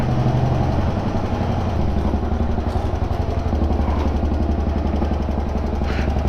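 A Honda XL motorcycle engine idles close by with a steady, rough low throb and unbroken loud drone, fitted with a dB killer, as the bike is wheeled out.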